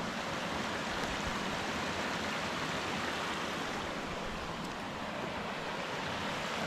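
Mountain stream in the Smokies rushing below a bridge, a steady broadband wash of flowing water, constant and fairly faint, with no voices.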